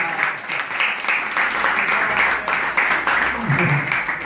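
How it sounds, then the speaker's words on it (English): An audience claps for a child at a Sunday gathering at ISKCON Newcastle, a steady burst of applause that fills the room for several seconds. "Give him a round of applause."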